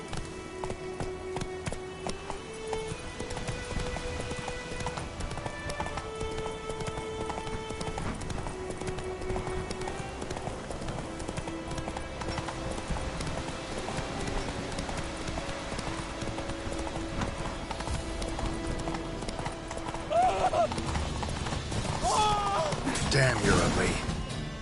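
Roach the horse gallops in The Witcher 3, a steady run of clip-clop hoofbeats under game music, with a brief snort or whinny and a heavier impact toward the end.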